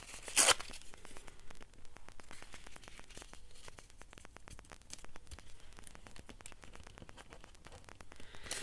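A piece of paper being torn for a collage: a sharp rip at the start, then a long run of small crackling tears and crinkles, close and quiet with no talking.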